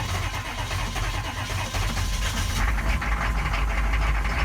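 A 1998 GMC K2500 diesel pickup with two dead glow plugs and a new battery hesitates as it starts, then settles into a loud, steady, close diesel rumble that grows slightly fuller midway, with no talking.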